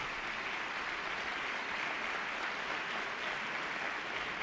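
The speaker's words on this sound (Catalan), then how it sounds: "Un aplaudiment per a aquest compositor, Ramon Pastor, autor de Tirant lo blanc" Audience applause at a wind band concert in Quart de Poblet, a dense, steady, even clapping that carries on throughout without a break.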